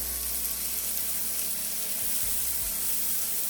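Peppercorn-crusted New York strip steak sizzling in a pan as onions go in, a constant broad hiss with a few low thumps near the end and no voices.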